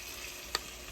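Burgers fry in a pan, a soft, steady sizzle of rendering fat at low volume, with one brief sharp tick near the middle.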